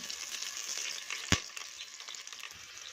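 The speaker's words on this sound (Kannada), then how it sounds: "ಶುಂಠಿ ಬೆಳ್ಳುಳ್ಳಿ ಪೇಸ್ಟ್ ಚೆನ್ನಾಗಿ ಫ್ರೈ ಆಗಿದೆ" Ginger garlic paste fries in hot oil for vegetable kurma, giving a steady, close crackling sizzle with one sharp clatter near the middle, no voices.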